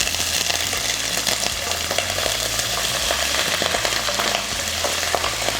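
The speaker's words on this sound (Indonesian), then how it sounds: "kita masukin cuminya ya" Squid sizzling and crackling in hot oil in a pan for Indonesian sambal cumi balado, a steady loud frying hiss throughout with scattered pops and no talk.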